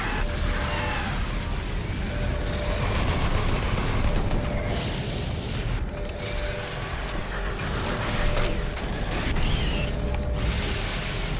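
An elevator being called in the video game Doom 3: The Lost Mission brings loud, continuous mechanical rumbling with creaks, clanks and deep booming bursts throughout.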